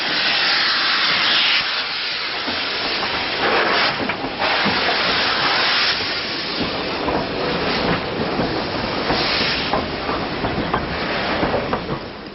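Preserved B12 steam locomotive 61572, rebuilt by Gresley with a larger boiler, running along the line with a loud, steady roar and rhythmic clatter of wheels, no voices heard.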